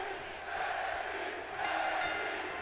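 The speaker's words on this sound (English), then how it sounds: "The crowd going wild, chanting for NXT J." A video game crowd cheers and chants at a WWE 2K24 wrestling event, a continuous dense roar held at a steady level that swells slightly near the end.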